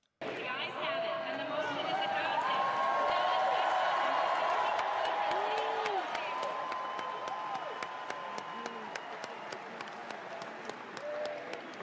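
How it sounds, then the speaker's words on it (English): Applause and cheering from the crowd at the Republican National Convention, a sustained wash of clapping and voices that swells and then thins out, with a voice speaking over it. "That's some pretty anemic cheering there from the RNC crowd"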